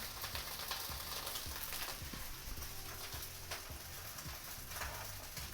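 Fried rice with Chinese sausage frying in a hot pan, a close, dense crackling sizzle with stirring scrapes and clatter running steadily throughout.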